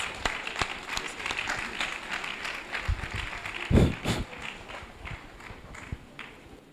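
Steady crowd applause fills an engineering society induction ceremony for graduate members, with scattered voices mixed in and a heavy thump partway through.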